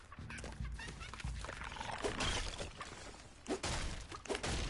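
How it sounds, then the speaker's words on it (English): A chicken in Fortnite clucks in short, quiet bursts among scattered game effects and a brief shattering noise. "She killed a chicken."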